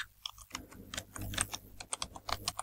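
Someone types on a computer keyboard while working in Canva, a quick run of close, crisp key clicks after a short quiet start, continuing in an uneven rhythm.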